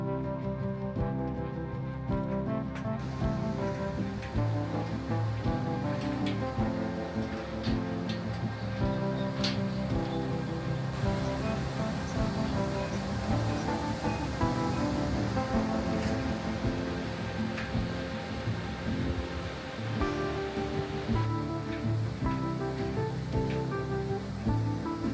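A Himalayan river in the Langtang Valley of Nepal rushes past in a steady, dense roar, loud and continuous throughout, with no voices over it.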